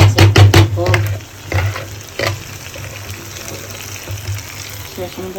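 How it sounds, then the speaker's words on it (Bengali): Pangas fish and spices cooking in a pan, with a run of loud scraping, clattering stirs at the start that settles into a steady, softer sizzle. "এদিকে দেখেন পাঙ্গাস মশলা কষাইতেছি"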